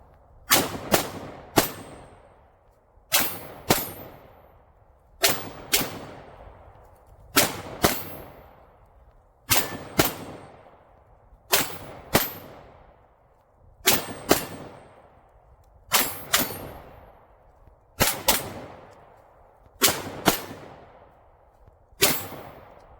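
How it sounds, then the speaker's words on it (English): Palmetto State Armory Rock 5.7 pistol with a HoloSun red dot fired at steel targets on a pistol range: sharp, loud shots in steady pairs and triples, each followed by a ringing metallic ping, repeating across the clip with no talk. "just hitting the steel here on the pistol range"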